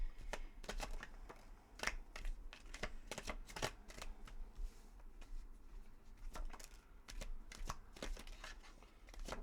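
Tarot cards are shuffled by hand in a steady run of crisp riffles and slaps, repeating throughout with short pauses, close and fairly quiet with no talking.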